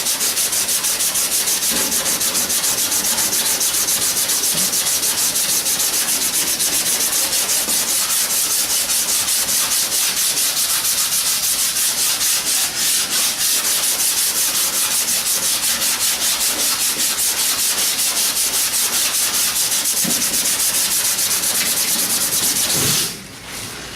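Steady, continuous abrasive rubbing of a sanding block worked back and forth over dented car body panels, loud and close, running without pause for the whole stretch with no talk.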